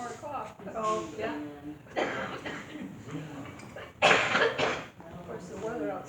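Several coughs and throat clearings at a Lions Club meeting, loud bursts spaced a few seconds apart amid murmuring room talk.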